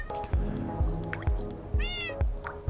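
A few short meows from a cat in Minecraft, close and clear, with repeated low dripping thumps in a steady rhythm underneath; no voices.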